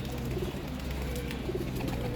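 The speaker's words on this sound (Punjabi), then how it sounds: "ਇਹ ਬਹੁਤ ਅੱਛਾ ਕਬੂਤਰ ਹੈ।" A Sialkoti pigeon coos in low, soft repeated calls over a constant background wash, with no talking.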